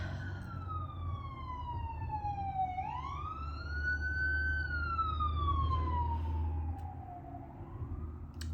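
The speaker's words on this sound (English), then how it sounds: "I need to go to therapy just because of these sirens" A wailing siren sweeps up and down in long, rising and falling cycles over a steady low traffic rumble, fairly close and continuous.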